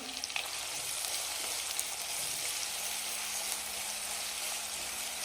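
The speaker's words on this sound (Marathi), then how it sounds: "बारीक सॉफ्ट केलेला कांदा आता हे छान असं परतून घ्यायचं आहे आपल्याला" Finely chopped, softened onion sizzles steadily as it sautés in a pan for a rustic Marathi vegetable dish, a continuous close frying hiss with occasional stirring scrapes and no voices.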